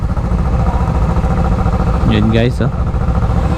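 Motorcycles streaming past at night on a Davao street, a steady engine drone with a brief nearer passing rev, under casual talk.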